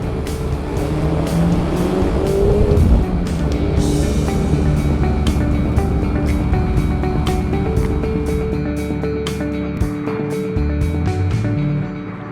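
Engine of a Mazda MX-5 roadster on the move, a loud continuous drone rising and falling with the revs and gear changes, heard from close by with road and wind noise and no talking.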